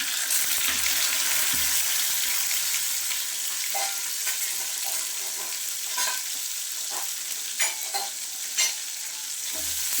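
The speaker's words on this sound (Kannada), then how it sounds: "ಸಾಸಿವೆ ಸಿಡಿದ ತಕ್ಷಣ ಇದಕ್ಕೆ ಒಗ್ಗರಣೆ ಬೇಯಿಸಬೇಕು" Mustard seeds, a green chilli and crushed garlic sizzle steadily in hot oil for tempering, a loud continuous fry with a few stirring clicks and pops, close by.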